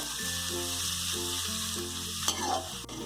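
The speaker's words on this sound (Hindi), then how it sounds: "अब हम लोग को अपने प्याज को लाइट गोल्डन फ्राई करना है, बहुत ज़्यादा ओवर कुक नहीं करना है।" Chopped onions frying in a pan for an okra do pyaza dish, a steady close sizzle that runs through the whole clip. A few stirring scrapes come near the end, and no one speaks.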